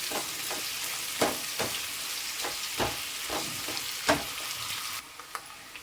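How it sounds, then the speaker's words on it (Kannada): Onions and garlic frying in a pan for home-style sambar: a steady close sizzle broken by sharp clicks and scrapes of a stirring utensil, with no talk. "ಈರುಳ್ಳಿ ಬೆಳ್ಳುಳ್ಳಿ ಎಲ್ಲ ಸ್ವಲ್ಪ ಫ್ರೈ ಆದ್ರೇ ಟೇಸ್ಟ್ ಚೆನ್ನಾಗಿರುತ್ತೆ."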